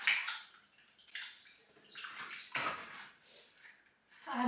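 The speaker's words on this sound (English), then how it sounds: "And around the glass, you just want to give that a quick rinse." Water rinses around the glass of a door during routine house cleaning, a splashy spray that rises and falls in uneven bursts across the few seconds, fairly close, with no speech over it.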